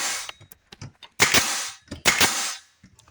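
A nail gun drives finish nails into scrap wood with glue: a few sharp snapping shots stand out among lighter clicks and handling taps, close and loud, with short pauses between bursts.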